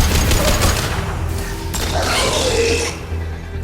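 Rapid bursts of gunfire from the video game Mass Effect 2 crackle through a noisy combat scene, with dense overlapping shots and mechanical clatter, loud and continuous before easing toward the end.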